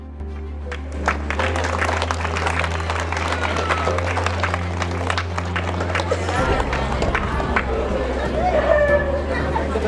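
Audience applause at a village award ceremony in Kuppathu Mottur, a steady wash of clapping that runs the whole time under a low sustained music drone and voices.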